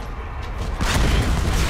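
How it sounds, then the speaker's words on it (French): A cave collapses in Tomb Raider 2013, a deep rumbling boom that swells into a loud, dense crash of falling rock over a couple of seconds. "On est sorti, mais tout est en train de s'effondrer."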